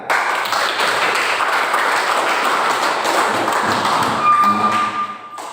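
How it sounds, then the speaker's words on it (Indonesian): A classroom group gives a round of applause for a presenting discussion group, dense overlapping clapping and thumps that hold steady for several seconds before tapering off, close and fairly loud. "Selanjutnya kita berikan aplaus kepada kelompok 3."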